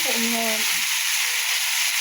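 Water poured into a hot pan of sautéed cauliflower cooked down in oil sets off a brief loud sizzle, then a steady hissing fry continues close by, with no voices.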